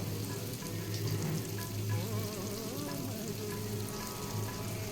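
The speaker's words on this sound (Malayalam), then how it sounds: "ഇത് നോൺ സ്റ്റിക്കിൻ്റെ ഉണ്ണിയപ്പച്ചട്ടിയാണ്" Unniyappam batter frying in a non-stick unniyappam pan gives a steady, close sizzle and bubbling crackle that runs unbroken through the whole stretch, with no talking over it.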